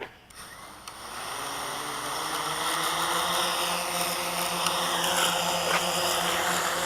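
A drone with large propeller blades hovers close by, giving a steady broadband whir with a low tonal hum that swells slightly as it settles into the hover; no one speaks.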